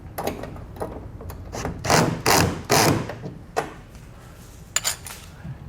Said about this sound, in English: We'll then grab a 10mm wrench and a Phillips screwdriver to snug these down.